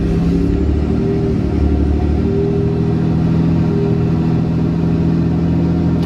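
A diesel pickup truck with a newly installed 68RFE automatic transmission pulls steadily under load, a continuous deep engine rumble holding loud and close, with slight rises in pitch as the gears change.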